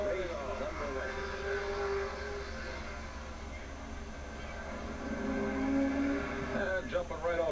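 A field of stock cars, including a 1985 Pontiac Firebird, drones as the race gets underway at Bridgecity Speedway in 1986, a steady, fairly distant engine roar that swells near the end, with a commentator talking over it.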